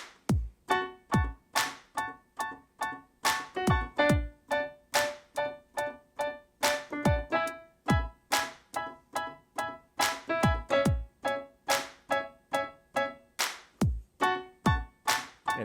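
A song is played slowly on piano over a steady drum beat. A bright percussive hit lands on every beat and piano chords ring between the hits, with a sustained rhythmic pulse and no voices.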